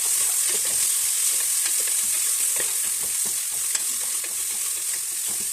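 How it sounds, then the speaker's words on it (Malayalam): Onions sauté in ghee in a pan for egg biryani, giving a loud, continuous sizzle with frequent scraping stirs close up and no voices. "ഞാൻ നെയ്യ് ഒഴിച്ചിട്ട് പിന്നെ കുറച്ച് സവാള ഇട്ട് നന്നായിട്ട് വഴറ്റുന്നുണ്ട്"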